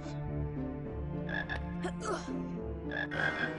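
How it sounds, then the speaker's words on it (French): Frog croaks in a Harry Potter video game, several deep rhythmic croaks repeating over a steady game music bed, fairly loud and close. "Oh, une grenouille. Voilà, on a une grenouille."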